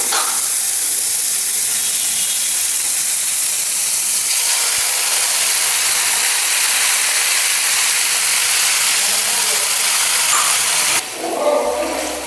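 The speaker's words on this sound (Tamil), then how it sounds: "அப்படியே வெந்நீர் எடுத்து ஊற்ற போகிறோம்" Hot water hits a hot pan for upma and erupts into a loud, sustained steaming hiss that runs for about eleven seconds, then cuts off abruptly to quieter kitchen sounds.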